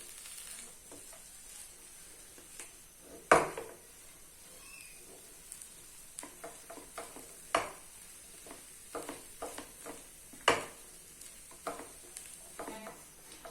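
Green onion and finely chopped green chillies stirred and cooked on a low flame for pinwheel samosa filling: a faint, soft sizzle under scattered sharp clicks and scrapes of a spoon against the pan.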